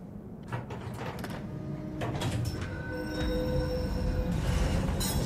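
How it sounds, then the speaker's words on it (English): Underground tram in the shooter VLADiK BRUTAL moving along its track, with sliding-door hisses and clanks early on, then steady rolling rumble and thin metallic wheel squeals building louder toward the end. "Little underground tram system."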